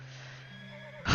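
A horse in a Western video game whinnies with a long, clear neigh, followed by a sudden louder burst at the end, with no talking.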